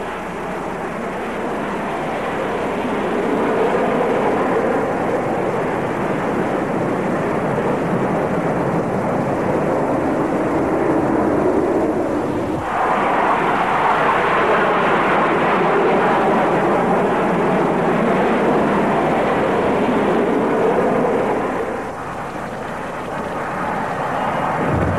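A jet aircraft at an air display in Japan gives a loud, sustained broadband roar that surges sharply around the midpoint and stays heavy before easing off near the end, with no voices.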